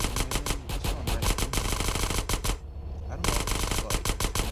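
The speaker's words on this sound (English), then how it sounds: "every time I got in his line of sight, he would start shooting at me" Machine gun fire in GTA San Andreas rattles out in dense, loud rapid bursts, a brief pause before the shooting resumes at full intensity.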